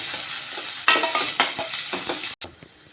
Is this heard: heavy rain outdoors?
no